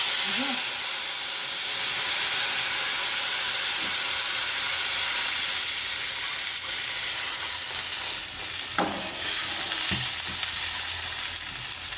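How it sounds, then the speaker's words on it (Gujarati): Buttermilk goes into a hot pan of gram flour curry with curry leaves, hissing and sizzling loudly in a steady, steamy wash that carries through, with a couple of faint clinks. "હવે હળવું દઈને છાશ નાખશું, નકર ઉડે પછી બહુ"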